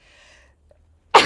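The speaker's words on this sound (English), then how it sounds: "sorry, I had a sneeze." A single sharp human sneeze bursts out at the end after near silence, loud and close to the microphone.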